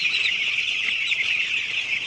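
Farm chickens clucking in a dense, steady chorus at moderate distance, a continuous murmur of many birds with no talk.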